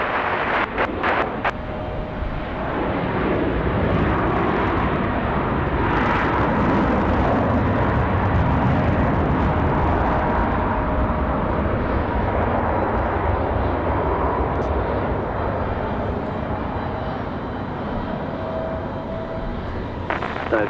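A Boeing 777 airliner's engines run with a steady, broad roar at Raleigh-Durham airport as it readies for departure; the sound stays continuous and fairly loud throughout, with no speech.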